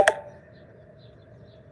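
A brief phone message alert rings out once at the start, a short bright chime whose tone fades quickly into quiet room hum.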